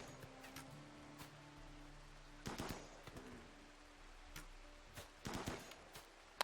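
Colonist's gun firing during a RimWorld tribal raid, several sharp shots in two short bursts separated by quieter gaps, crisp and close with a low game hum beneath.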